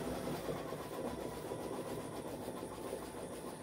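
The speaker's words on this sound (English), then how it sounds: "That noise you hear is my embroidery machine going." An embroidery machine runs steadily nearby, giving a continuous rhythmic mechanical clatter and whir at moderate level, with no talking.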